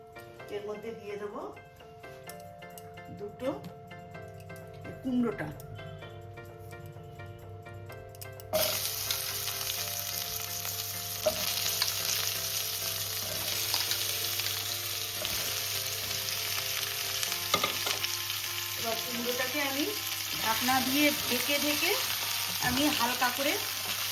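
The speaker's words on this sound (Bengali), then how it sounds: "এবার আমি এইভাবে কুমড়োটাকে ভাজবো" Pumpkin frying in oil in a wok, a loud steady sizzle that jumps up sharply partway through as the pieces hit the oil, with stirring scrapes and someone talking over it.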